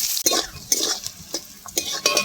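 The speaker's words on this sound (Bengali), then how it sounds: "কড়াতে তেল আছে অনেকটা, এবার পেঁয়াজ, কেটে রাখা পেঁয়াজ দিয়ে দেবো। পেঁয়াজটা একটু ভালো করে ভেজে নেব।" Chopped onions fry in plenty of oil in a wok, with repeated bursts of spatula stirring and scraping over a light sizzle, close and fairly clear.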